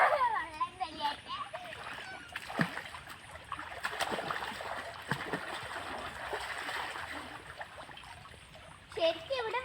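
Water splashes and sloshes in a natural pond in Kasaragod, Kerala, in irregular bursts at moderate distance, while adults and someone talk over it almost throughout.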